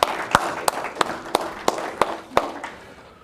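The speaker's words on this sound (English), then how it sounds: "I want all of y'all to give yourself a round of applause for being here." Applause at a City of Akron Teen Leadership Council keynote speech, heard as steady, evenly spaced hand claps roughly three per second over a soft background hum of the room, moderately loud and without talking.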